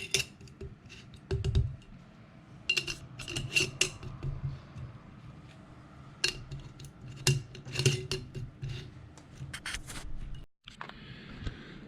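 Metallic clicks, scrapes and ticks of a metal mesh lid being screwed onto a glass mason jar, close and intermittent with small bursts of activity.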